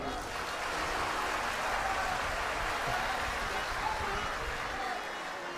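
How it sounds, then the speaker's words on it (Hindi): A crowd at a spiritual discourse applauds, producing dense, steady clapping that is loud and continuous throughout, with some voices mixed in. "एक बार अपने लिए ताली बजाइए।"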